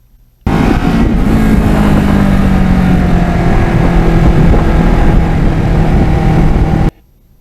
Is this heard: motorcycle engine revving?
yes